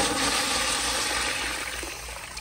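A Kohler Bardon urinal flushes with a loud rush of water that splashes strongly and then eases off slightly near the end, heard up close with no speech.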